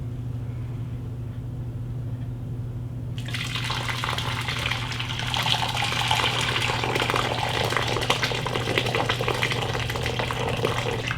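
Hot blackberry jelly juice pours into a jelly bag set over a bowl, starting as a low hum and then swelling into a steady, full splashing gush that keeps flowing close by.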